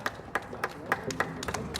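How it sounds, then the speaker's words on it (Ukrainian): Audience applause at a youth beekeeping competition in Ukraine, a handful of people clapping in a loose, uneven rhythm of distinct claps, nearby and moderately loud. "І оплески глядачів."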